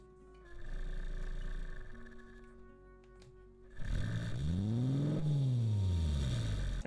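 Simulated car engine in Engine Sim running on Linux with exhaust setup 3, idling with a steady hum before revving up and sweeping back down in a smooth rising and falling tone, faint and alone.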